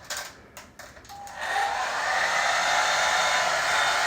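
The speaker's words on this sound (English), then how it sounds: "It's a hairdryer." A built-in hotel bathroom hairdryer at the Rodos Palace Hotel in Ixia, Rhodes clicks and sputters briefly, then kicks into a steady, loud whooshing airflow that holds on close by.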